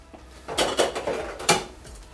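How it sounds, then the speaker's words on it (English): Dirty dishes clatter and clink together in a few sharp bursts as they are cleared away, with close, bright knocks of crockery and cutlery and no talking. "Do you see any dirty dishes?"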